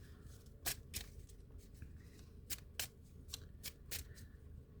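A deck of oracle cards is shuffled, with about eight quick riffling bursts at an uneven rhythm over a faint background hum.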